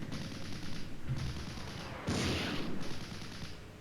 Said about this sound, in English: There's another great hit on the tank.